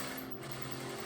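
Sewing machine winding an empty bobbin at a slower speed, a steady close mechanical whir and buzz running unbroken and fairly quiet, with no voices.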